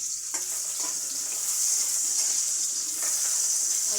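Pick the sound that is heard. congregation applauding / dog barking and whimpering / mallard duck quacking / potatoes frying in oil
potatoes frying in oil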